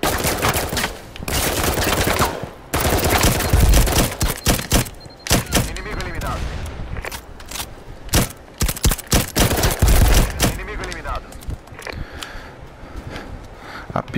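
Rapid gunfire from the shooter game Firewall Zero Hour, with dense bursts of loud shots, then sparser single cracks and short volleys, close and punchy throughout.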